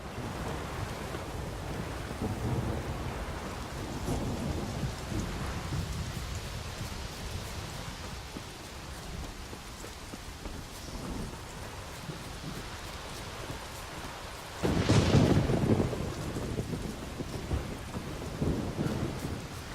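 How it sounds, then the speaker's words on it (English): Rain and wind pour steadily through a stormy night in The Witcher 3, with rolling thunder rumbling underneath and a louder, sharper crack of thunder bursting in near the end, no voices present. "Quite the storm."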